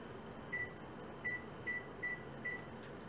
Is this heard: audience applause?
no